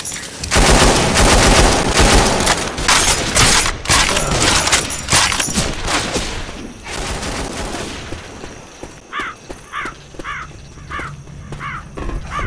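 Rapid automatic gunfire and bursts of shots fill a Left 4 Dead 2 game scene, loud and dense at first and then thinning out, with other game sounds in the later part.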